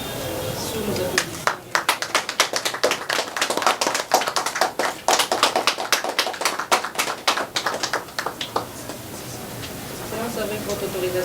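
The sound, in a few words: audience applause at a ceremony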